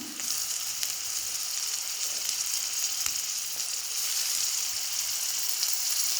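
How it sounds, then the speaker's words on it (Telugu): Dried prawns and chopped tomato fry in a pan, giving a steady, close hiss of sizzling oil that stays even throughout. "ఎండు రొయ్యలను కూడా వేసేసుకుందాము. అలానే కట్ చేసిన టమాటా ముక్కలు కూడా వేసుకుందాము."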